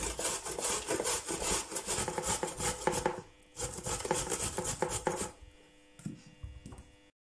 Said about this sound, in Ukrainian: Кабачки натираємо на великій терці.